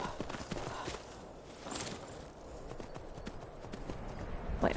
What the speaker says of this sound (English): Here, horse.